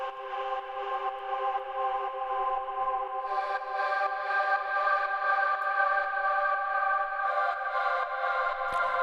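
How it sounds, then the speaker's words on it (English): Sustained synth pad from a sample pack, a soft, hovering tone with stacked harmonics that swells slightly brighter partway through and holds steadily without voices. "we have one last pad, which actually is a pad again from the sample pack that I mentioned before"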